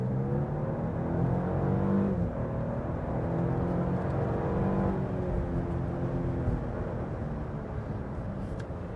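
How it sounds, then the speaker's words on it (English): A Lexus GX 550 Overtrail+ engine held at full throttle, a loud, steady drone that climbs in pitch and then carries on at high revs for the whole stretch, with no talk over it. "with the new GX, we're gonna talk about this engine, and all I'm gonna do is floor it and show you what I mean"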